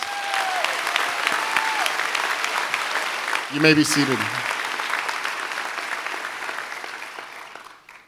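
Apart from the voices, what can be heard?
audience applause at medal of valor ceremony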